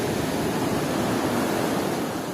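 Glacier meltwater stream beneath a sturdy wooden bridge near Skardu, a steady, dense rush of flowing water filling the whole clip with no voices.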